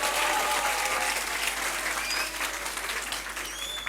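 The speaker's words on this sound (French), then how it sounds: "Applaudissez pour vous." Sustained audience applause at a high school trophy ceremony, a steady wash of clapping hands from a crowd that stays loud before easing slightly toward the end.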